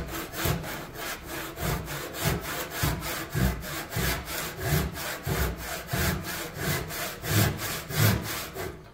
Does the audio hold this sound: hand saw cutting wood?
yes